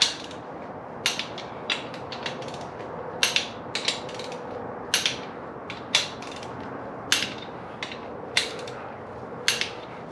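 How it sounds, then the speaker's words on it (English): Torque wrench tightening bolts during a Toyota 4AGE engine bottom-end assembly, giving sharp clicks at irregular intervals, roughly a dozen over the stretch, each short and crisp over a quiet workshop background. "Then we're gonna do our final torque."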